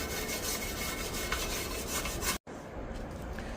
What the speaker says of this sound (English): Just gonna clean the inside of the rim real quick with a wire brush, get some of this surface rust off of here.